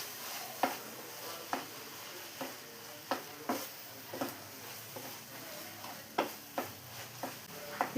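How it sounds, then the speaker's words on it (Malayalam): Chicken keema with kasuri methi being stirred in a pan, a steady series of soft spoon scrapes and taps every half second or so over a faint sizzle, close and quiet, no talking. "ഇനി ഇതെല്ലാം കൂടെ ഒന്നുകൂടെ ഒന്ന് മിക്സ് ചെയ്ത് കൊടുക്കാം."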